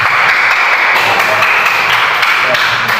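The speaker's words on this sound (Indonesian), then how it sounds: "Benar sekali, tepuk tangan untuk" Classroom applause from students during an Indonesian Quran recitation lesson, with loud, dense clapping running steadily for about three seconds and no talking over it.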